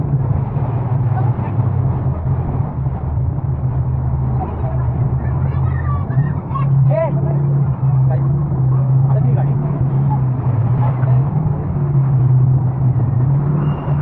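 A vehicle's engine drones low and steady throughout as it is eased out along a flooded, waterlogged road during heavy rain, with voices talking over the rumble.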